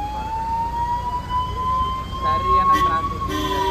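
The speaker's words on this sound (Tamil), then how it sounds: "டிராஃபிக் மட்டும் எவ்வளோ இருக்குன்னு பாருங்க" Busy road traffic in Tamil Nadu on the way toward Mahabalipuram, a steady broadband rumble of vehicles with a siren sweeping continuously underneath and some horn-like tones near the end, all under talk.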